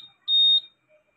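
A Honda Click scooter's answer-back alarm gives a single short, high-pitched electronic beep, loud and close, then silence.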